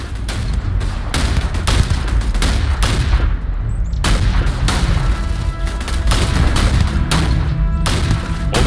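Rapid turret gunfire in the sci-fi game Starfield, a loud, relentless string of sharp shots with heavy booming low end, running nearly continuously with brief gaps.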